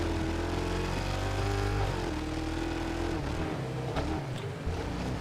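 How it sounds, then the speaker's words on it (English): Race cars in a video game race, engines droning and revving steadily as they run laps, with pitch shifts as cars accelerate and pass, loud and continuous without talk. "These are the only 2 cars that are currently racing."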